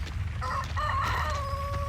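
A rooster crows once, close and clear, its drawn-out call rising and then trailing off over a low background rumble.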